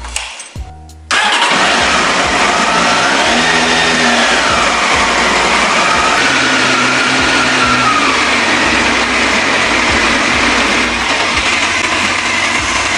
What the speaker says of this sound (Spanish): vamos a poner en marcha la moto unos minutitos